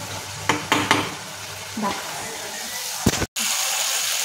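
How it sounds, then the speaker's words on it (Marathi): A milk-mixed paste is poured into a hot cooking pan in a home kitchen, giving a few quick splashes and scrapes followed by a sizzling, bubbling simmer, with brief stirring knocks near the end. "त्यानंतर ही आता दुधामध्ये मिक्स केलेली पेस्ट टाकली"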